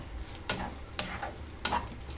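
Ridge gourd curry is stirred in a pan over a soft sizzle, with three distinct scraping strokes of the spoon spaced about half a second apart, close and fairly quiet.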